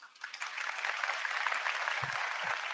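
An audience applauds a speaker's statement at a talk, with fairly faint, steady clapping that swells in quickly and keeps going, plus a couple of low thumps.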